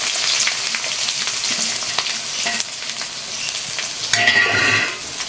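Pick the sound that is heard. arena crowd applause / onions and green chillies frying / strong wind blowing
onions and green chillies frying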